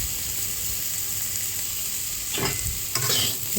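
Bitter gourd fries with poppy seeds in a pan, a loud continuous close sizzle running throughout, with a couple of stirring scrapes near the end and no voices.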